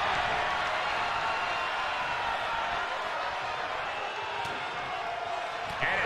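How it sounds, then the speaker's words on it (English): A wrestling arena crowd roars and applauds continuously, a dense, loud wash of cheering that holds steady throughout. "Taking a moment to get pumped off of this crowd's incredible energy"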